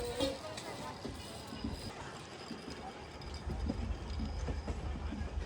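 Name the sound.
train running, Pune to Hubli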